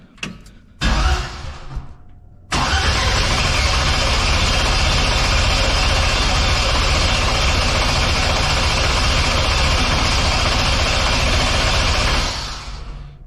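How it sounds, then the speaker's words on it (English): A Chevrolet C10 truck with a swapped 5.3 LS engine, run from a skid loader battery after 30 years sitting, turns over with a loud, sustained mechanical drone for about ten seconds before cutting off. A few short knocks come just before it starts. "she cranks like a bat out of hell with that skid loader battery on here"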